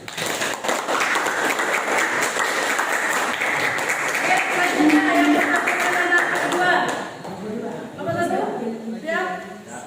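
A classroom group claps after a presentation, a dense sustained round of applause that thins out toward the end, with voices speaking under and after it.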